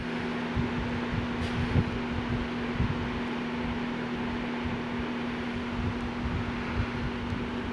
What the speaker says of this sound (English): Let's go with a second speed, which is medium. Of course, I'm covering the mic because this fan does throw out a good bit of wind.